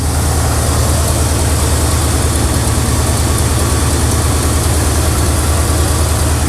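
A square-body truck's Oldsmobile Rocket engine idles fast and steady while warming up, untuned, a constant loud low rumble with no talking.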